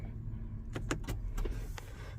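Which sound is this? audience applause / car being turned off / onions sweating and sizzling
car being turned off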